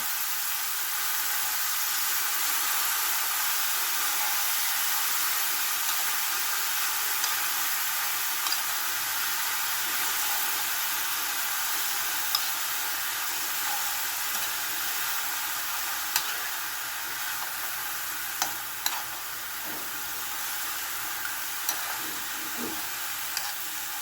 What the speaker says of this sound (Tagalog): Ilagay na po natin ang bean sprout o togi.